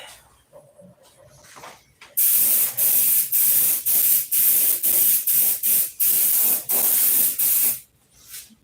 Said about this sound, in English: Spray down this way. See how, get some more paint on the bottom.